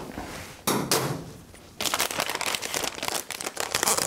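A plastic vacuum bag for a prepreg carbon fibre airbox part crinkles and rustles loudly in bursts of crumpling, close by, with no talking.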